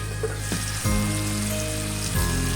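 Chicken frying in a pan gives off a steady, close hiss and crackle of sizzling oil, with a couple of brief scraping or stirring sounds and no talk.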